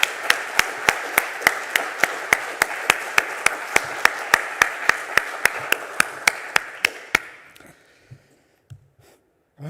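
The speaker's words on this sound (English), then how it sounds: "So I'd like a round of applause for Endless Foundation." A conference audience at GUADEC 2026, a GNOME developer event, claps for a sponsor. The claps are sparse, distinct and close, with a steady rhythm for about seven seconds. Then they thin to a few scattered claps and stop.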